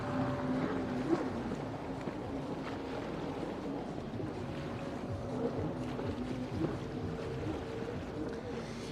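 GP2-class jet skis, both 2-stroke and 4-stroke machines, race around a water circuit at a Grand Prix in Poland. Their engines make a steady, continuous droning roar with no talk.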